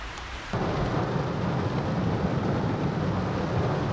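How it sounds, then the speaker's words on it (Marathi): Heavy rain bursts in abruptly after a quiet moment and pours on as a dense, steady roar with a low rumble of thunder beneath it, loud and close, with no talk. "पाऊस आहे यार."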